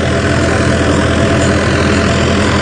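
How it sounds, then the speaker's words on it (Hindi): An HMT tractor runs with a 7-foot Punni super seeder attached, giving a loud, close, continuous engine drone with a steady low rumble and no pauses. "ट्रैक्टर का थोड़ा सा भी एक सिलेंडर का चल रहा है"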